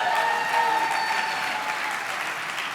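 An audience applauds at a regional Emmy awards ceremony, a steady, full wash of clapping that continues evenly through the short stretch.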